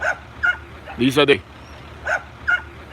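A dog rescued by firefighters from mud in Brighton, New York, gives several short, sharp yips, close by and spaced across the moment, while someone speaks briefly.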